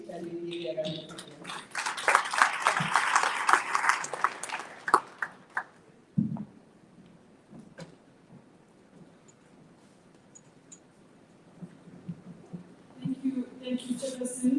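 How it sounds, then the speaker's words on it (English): A summit audience applauds, a dense burst of clapping that peaks early, then thins into scattered claps and quiet. Faint voices sound near the end. "shall we give a round of applause?"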